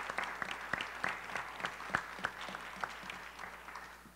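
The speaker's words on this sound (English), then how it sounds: "Let's give him a big round of applause." Applause at a public hearing on the census in Buffalo comes as scattered, distinct claps from a small crowd in a room, quiet and thinning toward the end.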